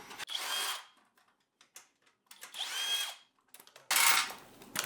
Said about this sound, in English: Right across the street there's been drilling and jackhammering.